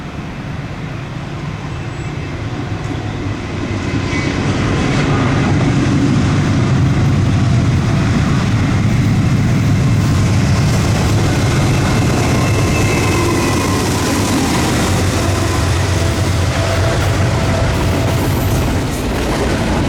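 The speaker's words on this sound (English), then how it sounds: "one decent train of the day shows up." A BNSF freight train led by a GE locomotive rumbles steadily past at close range, a broad continuous roar of wheels and engine that builds early and stays loud throughout.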